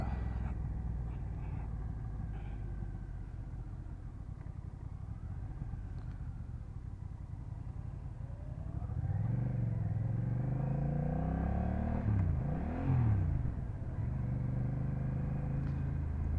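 A 2024 Honda Rebel 1100 cruiser motorcycle rumbles steadily under way at close range. Its engine pitch rises and falls through several throttle and gear changes in the second half, and there is no talk.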